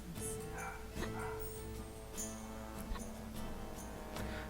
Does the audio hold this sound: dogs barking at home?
yes